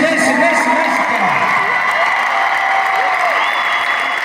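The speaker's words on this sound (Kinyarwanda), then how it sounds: "Nagira ngo mwongere amashyi menshi" Dense, loud audience applause at a concert with Rwandan artists, a sustained wash of clapping and crowd noise while voices call out over it.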